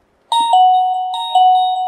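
A smart video doorbell's paired chime rings loud and close: a clear two-tone ding-dong, struck twice in quick succession with sustained ringing tones in between, alone without talk.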